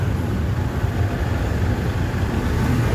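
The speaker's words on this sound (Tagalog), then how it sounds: "Traffic." Road traffic on Quezon Avenue, heard as a steady, dense rumble of engines and passing vehicles, loud and continuous without any clear talking.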